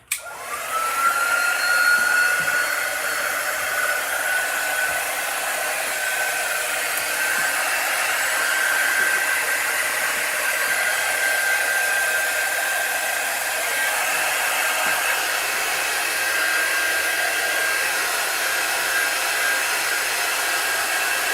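A handheld hair dryer blows steadily on chalk-painted wooden pieces, a loud continuous whooshing drone with a faint whine that holds at an even level the whole time, with no talking.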